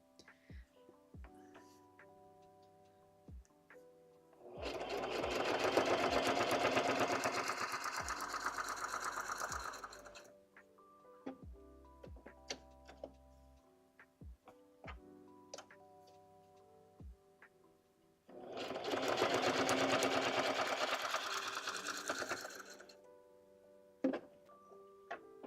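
Sewing machine stitching pages of a boho junk journal, driven by a foot pedal, in two steady whirring bursts of about five seconds each, separated by quieter clicks and handling sounds.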